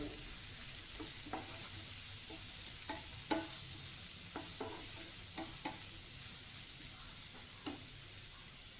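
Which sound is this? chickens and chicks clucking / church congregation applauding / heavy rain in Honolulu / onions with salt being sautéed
onions with salt being sautéed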